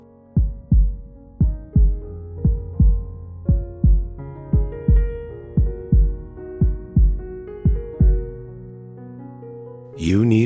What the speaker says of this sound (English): You want a heartbeat.